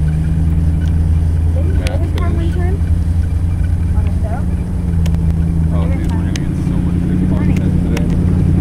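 A car with a Hemi engine runs at a steady low rumble throughout, loud and close at a West Coast Customs shop in Corona, California, while people talk over it.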